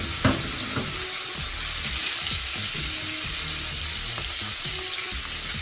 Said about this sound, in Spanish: voy a dejar que esto dore un poco y le agrego la carne para sellar